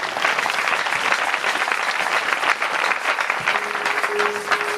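A church congregation at an evangelism mission in Madingou claps and cheers together, a dense and steady wall of applause that stays loud and close throughout, with no break and no talking.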